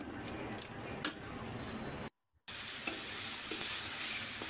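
Ginger paste, cumin paste, salt and spices frying in a pan for a fish curry, making a soft, steady sizzle with a few stirring scrapes, interrupted by a brief cut of silence midway.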